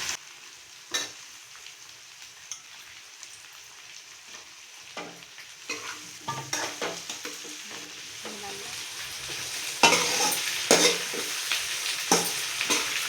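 Cut brinjal with peeled garlic and curry leaves dropped into hot oil: quiet sizzling at first, then scattered clanks and scrapes of a stirring spoon and louder crackling bursts as the frying picks up.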